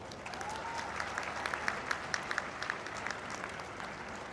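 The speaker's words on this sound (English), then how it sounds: "We must all give the graduating classes a big round of applause." A large crowd at a law university convocation gives the graduating classes a sustained round of applause, steady and fairly distant, with a few sharper claps standing out.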